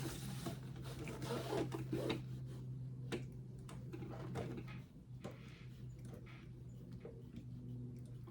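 A sewing machine top stitches a bag, making soft, intermittent ticking and clicking runs with a faint steady hum underneath, quiet and close with brief pauses between bursts.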